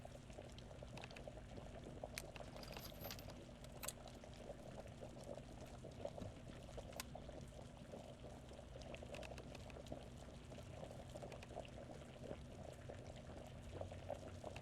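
A stir fry of carrot and onion cooks in a pan in the survival video game VEIN, giving a faint, steady bubbling sizzle that runs unbroken throughout with no voices.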